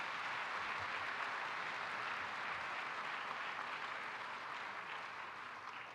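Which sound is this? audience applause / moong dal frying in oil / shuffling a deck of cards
audience applause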